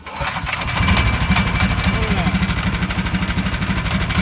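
The small pull-start engine of a 1970s Argo amphibious vehicle catches almost at once and runs with a rapid, even, rhythmic putter, loud and close.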